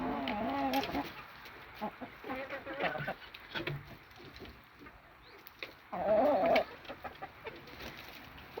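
Chickens cluck nearby in a loose, uneven series, with some talking in the background and a louder squawk near the end.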